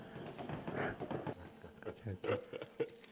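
Keys jangling in a hand while someone searches a spot during a Korean reality show, several light metallic rattles mixed with talk and room noise.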